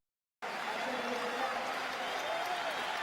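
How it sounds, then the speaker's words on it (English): Steady, dense applause from a large stadium crowd greeting substitute Ben Arfa at a France vs Iceland friendly football match in 2012, starting abruptly after a brief silence and holding even, with a commentator's voice faintly beneath. "Ben Arfa gets a good round of applause, and deservedly so"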